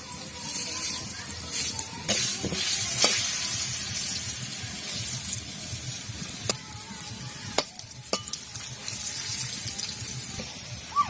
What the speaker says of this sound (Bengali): এখন আমি আলু কটা ভেজে নেব।